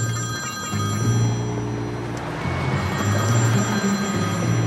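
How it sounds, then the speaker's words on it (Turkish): An incoming call rings on a phone, a repeating electronic ring pattern heard close and clear, with steady background rumble and no talking. "Evet, Zeynep Hanım arıyor."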